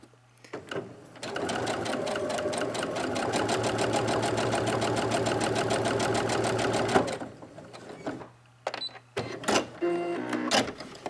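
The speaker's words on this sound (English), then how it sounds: "you can just baste this together close to the edge" A sewing machine basting the raw edges of a pleated fabric face mask, a close rapid mechanical stitching run of about six seconds, followed by short clicks and fabric handling.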